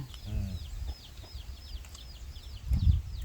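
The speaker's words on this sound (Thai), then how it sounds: "เป็นไก่บ้านป่" A domestic chicken clucks in short repeated bursts close by. Other birds chirp faintly in the background, and a low thump comes near the end.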